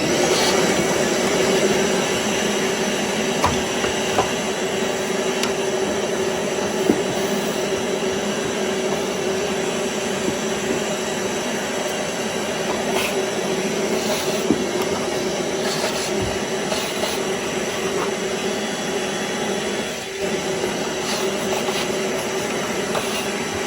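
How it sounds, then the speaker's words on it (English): A Eureka Airspeed upright vacuum cleaner runs continuously at close range with a steady, loud roar and whine, its slightly grindy bearings giving a rough edge, with occasional bumps as it moves across the floor. "Alright, let's get to vacuuming."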